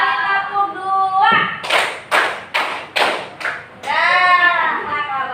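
Children in a classroom counting game clap their hands in a quick burst of about five sharp, loud claps in a row, with a voice speaking before and after the clapping.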